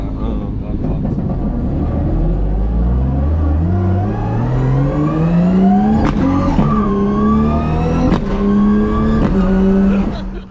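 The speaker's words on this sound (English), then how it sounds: "That's my old 86 with the same exact Samsonas sequential that I just finished putting into my IS, so check it out." A Toyota 86 fitted with a Samsonas sequential transmission accelerates loudly through the gears. Its engine note rises in long sweeps broken by sharp, abrupt shift cuts, with the cabin drone close and steady.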